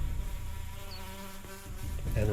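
Flies buzz continuously and close by, a droning, wavering hum in a decay-themed ambience for a Call of Cthulhu tabletop game soundset.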